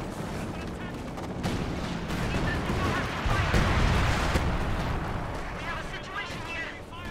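Artillery shells and gunfire from a Company of Heroes 2 Allies versus Axis match rumble in a dense, continuous barrage of booms and blasts, with a voice talking over the battle noise.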